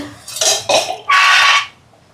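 A metal cooking pan is set down on a stove with a few loud clanks and clatters, ending in a brief ringing metallic tone before going quiet.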